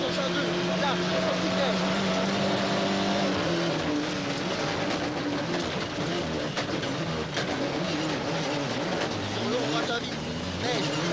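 A Ford Escort RS Cosworth rally car is driven hard on an icy, slippery stage. Its engine note rises and falls continuously at close range, with a voice talking over it.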